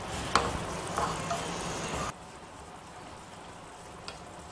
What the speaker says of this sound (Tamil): அதில் இந்த கசூரி மேத்தி இருக்கு இல்லையா, காய்ந்த வெந்தய இலைகள், அதை போட்டுங்க நல்லா ஃப்ரை பண்ணிடலாம்